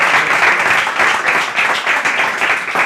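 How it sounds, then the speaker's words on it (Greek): A studio audience on a Greek Easter television show applauds steadily, dense and fairly loud clapping that holds without a break for about three seconds. "Χειροκροτήστε,"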